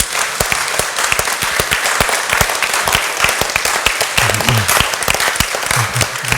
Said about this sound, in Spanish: ¿Quién da un fuerte aplauso al Señor?